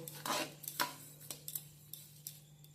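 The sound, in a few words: stirring sugar into kalakand milk mixture in a pan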